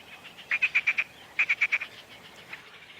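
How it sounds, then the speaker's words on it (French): Marsh frogs calling in the wild: two quick bursts of rapid, rattling, laugh-like croaks, four or five pulses each, loud and close, then one faint croak in a quiet background. "un fond musical livré par des grenouilles rieuses"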